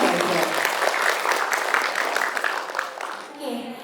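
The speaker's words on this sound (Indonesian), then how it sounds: "Tepuk tangan meriah untuk Tianda Group." Audience applause at a Buka Bersama fast-breaking gathering held by a company group, a steady dense wash of clapping for several seconds that fades slightly toward the end.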